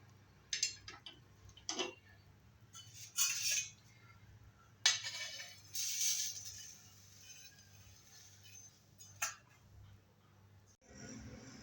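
Roasted dried fish (sukat) being transferred from a pan onto a plate, heard as scattered light clinks and scrapes of a utensil against metal, moderately close, with short gaps between the taps and no talking.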